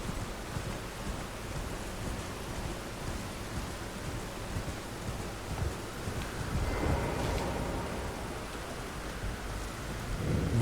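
Steady rain with low thunder rumbling through a stormy outdoor area of the video game Elden Ring, a dense wash of noise that swells slightly toward the end.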